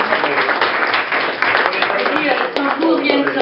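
An indoor audience applauding at a thank-you ceremony, a dense run of hand claps that blends with a voice speaking over it throughout.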